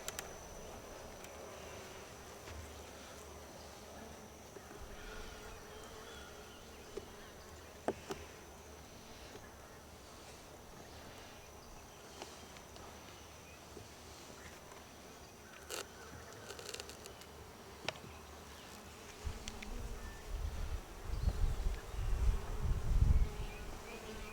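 Honey bees buzz steadily in an opened hive during a first-week inspection after feeding, a dense close hum with occasional clicks and handling knocks that grow louder toward the end.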